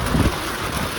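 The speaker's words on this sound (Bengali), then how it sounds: "মাশাআল্লাহ, দেখুন দেখুন বৃষ্টি এখন" Rain falling during a storm in Qatar, a steady broadband wash of drops that fills the short stretch evenly, with a slightly louder low rumble near the start.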